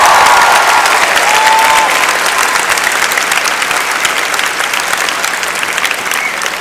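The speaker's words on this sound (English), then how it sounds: "I want the students to give their parents a round of applause" Large arena audience at a spring commencement ceremony applauding loudly and continuously, a dense wash of clapping that fades gradually.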